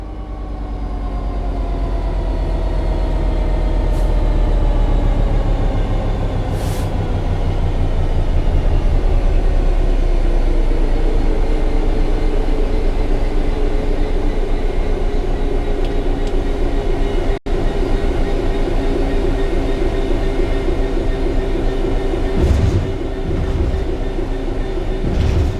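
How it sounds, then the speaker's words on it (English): A train coasting on level ground in Train Sim World 3 gives a steady low rumble with a faint wheel hum that slowly eases in pitch, continuous and fairly loud for the whole stretch with no talk. "The train will then coast on level ground, and the train will only slow down very gradually."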